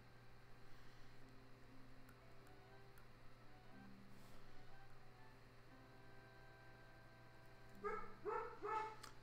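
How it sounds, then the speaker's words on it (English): A dog barks in a short burst of several quick yaps near the end, faint behind a steady background hum. "that's my dog freaking out"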